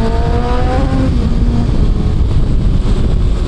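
Kawasaki ZX-636 motorcycle engine fitted with a long exhaust, a steady loud droning rumble with a brief rising tone early on, close and continuous throughout.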